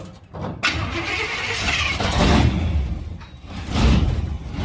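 A street stock dirt-track race car engine cranks and fires up close by, a loud rough roar that swells and surges as it catches and keeps running.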